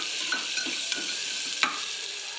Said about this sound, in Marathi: कोथिंबीर टाकून घेऊया. चांगलं हलवून घ्यायचं आहे आपल्याला.